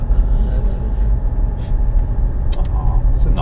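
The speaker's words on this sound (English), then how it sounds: "There's another car up ahead." A car engine rumbles steadily close by, a low continuous drone of road noise with faint voices mixed in.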